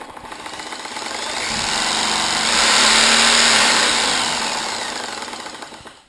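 A Lucas KNV magneto test rig running, a rapid mechanical rattling drone that builds in speed and loudness to a peak, then winds back down, close up, with no talking.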